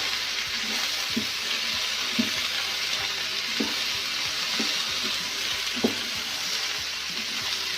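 Green beans sizzle and fry in a pan while being stirred, a steady hiss broken by soft scraping knocks spaced a second or so apart.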